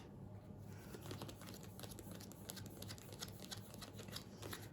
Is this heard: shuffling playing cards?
yes